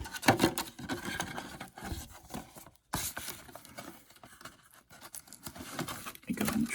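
Plastic body parts for a Tamiya Fat Fox model buggy are trimmed by hand, giving continuous close scraping and rasping cuts with a short pause midway, then more uneven snipping and rubbing.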